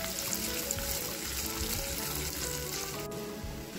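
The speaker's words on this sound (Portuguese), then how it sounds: "Refoguei por uns 3 minutos." Coarsely grated carrot with garlic sautéing in a pan for a farofa made with cream cracker crumbs: a steady, close, soft sizzle and crackle with occasional stirring scrapes, no talking.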